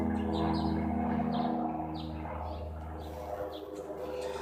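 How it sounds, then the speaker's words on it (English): Birds chirp and coo outdoors, repeated short calls over a steady low background hum, moderately close and fairly soft. "The sun is shining. You can hear the birds chirping."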